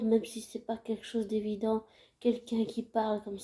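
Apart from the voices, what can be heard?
No everyday noises stand out.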